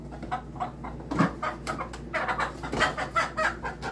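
Nearly adult Cara de Palhaço chickens, a small breed, cluck in short, repeated bursts close by, with a few louder squawks and no talking.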